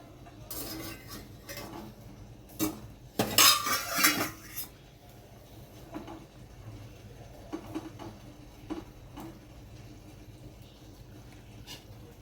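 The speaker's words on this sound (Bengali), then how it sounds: "এবার আমি ঢাকনাটা খুলে দেখে নিচ্ছি" A lid is lifted off a pot of a dish steamed in banana leaves on a gas stove, giving a short cluster of loud metallic clanks and scrapes midway, with quiet kitchen rustles before and after.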